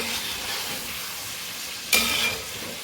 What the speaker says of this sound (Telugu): రొయ్యలు అయితే ఫ్రై అయిపోయినాయి ఎయిటీ పర్సెంట్ వరకు